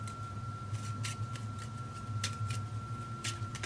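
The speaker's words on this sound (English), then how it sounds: "So I have to shuffle the deck" A deck of cards for the board game Chants for the Old Ones is shuffled in steady, repeated riffling bursts, close and clear, with a faint constant hum underneath and no talking.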